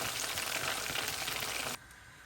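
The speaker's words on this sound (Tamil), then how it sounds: "லோ ஹீட்டில் வச்சு தான் நம்ம வந்து ஃப்ரை பண்ணுறோம்" Marinated, coated chicken 65 pieces deep-frying in oil over low heat, a dense steady sizzle and crackle that cuts off abruptly near the end, no voices.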